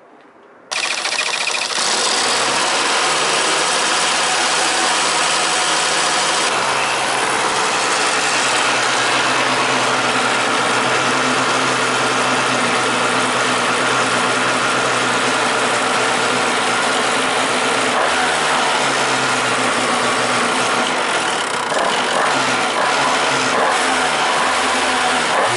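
Kart engine that had flooded in wet conditions starts with a burst, then runs loud and close with a buzzy idle and repeated revs rising and falling.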